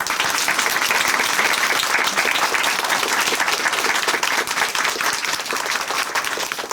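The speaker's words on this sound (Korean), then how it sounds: "우리 착한 김수영 자매님께 다시 한번 큰 박수 보내드릴게요." A church congregation gives a big round of applause, dense, loud and continuous clapping from many hands that stays steady throughout before easing slightly at the close.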